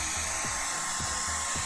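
A handheld blow dryer drying thick paint on a painted cactus craft, whirring steadily up close with a rhythmic pulsing hum and repeated short surges, no voices.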